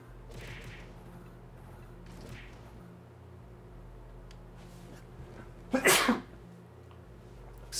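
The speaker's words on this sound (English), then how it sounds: "this is the first time I've sneezed in quite a while" A single sharp human sneeze bursts out loud and close near the end, standing above a low, quiet background hum.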